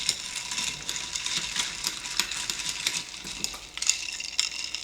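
Chocolate chip cookie dough is stirred in a bowl with steady scraping, clicking strokes repeating in a quick, uneven rhythm close by.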